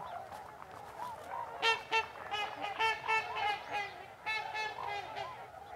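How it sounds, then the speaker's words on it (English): Swans call by a river, a run of honking, goose-like calls that rise and fall in clusters, fairly near over soft outdoor background. "And the swans say hi."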